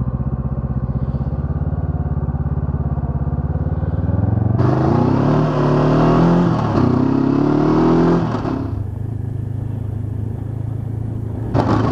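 Honda CB500X adventure motorcycle on an off-road trail, engine running steadily then surging into a loud, rising rev around the middle before settling back to a rumbling drone.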